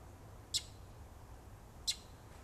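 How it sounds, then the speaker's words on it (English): A small chirpy bird gives two short, high chips about a second and a half apart, faint and distant over a quiet background during outdoor bonsai work. "And we have a chippy bird in the background."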